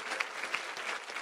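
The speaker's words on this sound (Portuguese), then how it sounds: "Cadê a Igreja Viva aplaudindo Jesus?" A short burst of church congregation applause, a soft, dense patter of many hands clapping at some distance.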